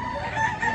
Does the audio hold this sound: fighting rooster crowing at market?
yes